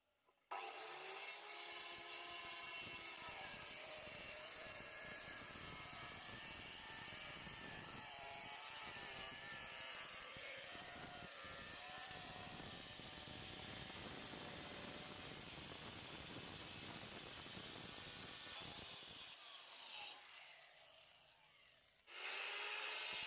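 A diamond blade saw cuts porcelain tile for an outdoor kitchen, a loud continuous whining grind that runs for about twenty seconds before winding down and stopping briefly, then resuming; no talking.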